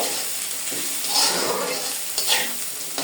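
Bitter gourd slices fry in oil in a pan, a steady broad sizzle with occasional stirring scrapes, close and continuous with no talk.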